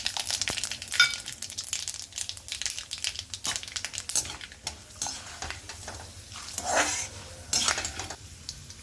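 Mustard seeds, chana dal and urad dal fry in hot oil in a pan, giving a steady crackling sizzle broken by scrapes and clinks of a spoon stirring against the metal.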